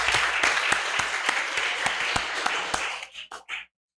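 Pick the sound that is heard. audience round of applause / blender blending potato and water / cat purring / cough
audience round of applause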